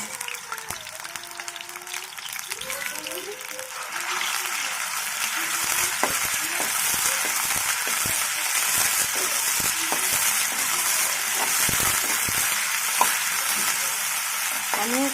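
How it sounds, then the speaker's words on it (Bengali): Marinated chicken for noodles frying in oil: a few stirring clatters and then, once the pieces hit the pan, a close, steady hissing sizzle that holds evenly to the end, with no speech. "ওই চিকেনটা আমি এখন তেলে দিয়ে দিচ্ছি।"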